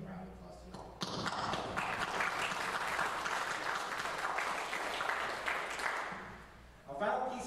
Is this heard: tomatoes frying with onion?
no